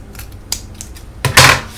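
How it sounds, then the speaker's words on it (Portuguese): Scissors snip through excess fabric while sewing a zipperless school pencil case from scrap cloth, giving a few crisp, close cuts with a louder, fuller snip near the end. "aí você vai cortar um pouquinho aqui para tirar um pouquinho do excesso"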